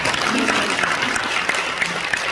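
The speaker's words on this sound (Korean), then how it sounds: "뜨겁게 기도해 주신 목사님 큰 박수 부탁드립니다." Applause from an audience at a church forum after a prayer, a close, dense patter of many hands clapping steadily at an even level across the whole moment.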